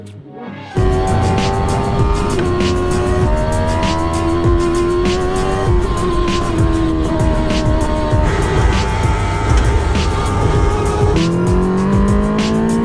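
A Fiat Grande Punto race car on track, engine loud and close, revving hard through repeated gear changes with rising pitch sweeps and brief drops between shifts.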